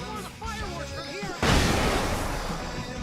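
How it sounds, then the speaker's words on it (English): Fireworks going off in the video game Alan Wake: a voice talks briefly, then a sudden loud blast erupts into a sustained, dense rumble of crackling bursts that fills the rest of the moment. "I can set off more of the fireworks from here!"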